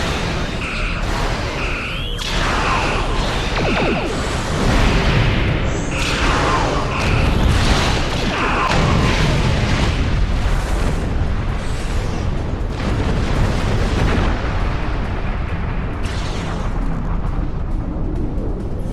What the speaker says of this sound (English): Concentrating fire on the Tholian flagship.